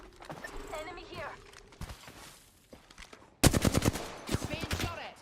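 Gunfire in a first-person shooter video game, a rapid burst of loud close shots late on, after quieter stretches where a player talks over the game sounds.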